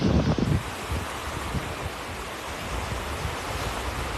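Steady wind gusting across a beach in North Naples, Florida, a broad roaring hiss with a louder rumbling buffet at the start, then continuing evenly with no voices.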